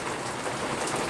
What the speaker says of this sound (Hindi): बारिश ज़्यादा हो रहा है।